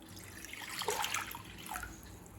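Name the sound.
water poured into a pot for boiling potatoes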